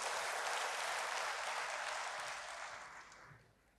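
A church congregation applauds for God, a dense, even wash of clapping that holds steady and then fades away toward the end.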